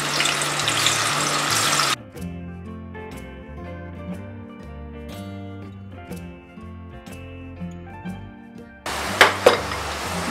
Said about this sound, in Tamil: ஸோ ரெண்டுமே வந்து ஆயில் சூடாக இருக்குது, நம்ம ஒன் பை ஒன்னாக போட ஆரம்பிச்சிடலாம்.